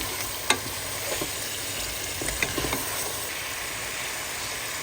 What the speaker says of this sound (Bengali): আমি এখন মাংসগুলো দিয়ে দেবো। একটু নেড়ে চেড়ে নিব।